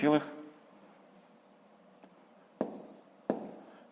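Pen or pencil scratches out handwritten numbers on paper in soft, close strokes. A voice opens briefly over the writing, and a couple of sharper taps follow later.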